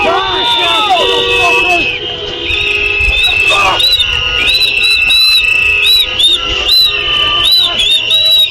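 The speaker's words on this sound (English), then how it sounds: "the whistle's driving me fucking crazy" A shrill whistle is blown over and over in sharp repeated bursts amid loud crowd hubbub and shouting during a chaotic street scene around a car.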